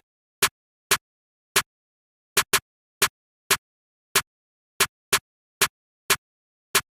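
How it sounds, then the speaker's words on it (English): Programmed jerk trap snare pattern built in FL Studio, a dozen sharp dry snare hits in a syncopated, uneven rhythm with silence between each, loud and alone. "The first thing I'll break down is the snare pattern that I put down."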